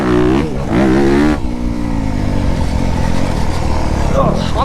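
A 2024 Honda CRF250R dirt bike engine revs hard and steadily, loud and close, with a brief throttle blip and a high whine near the end as the bike is ridden.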